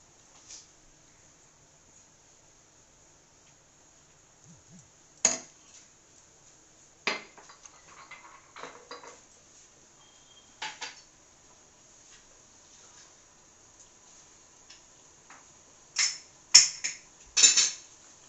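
A spoon scraping and knocking against a cooking pan while gravy is stirred, several irregular clinks spread across a quiet kitchen background, close and fairly soft.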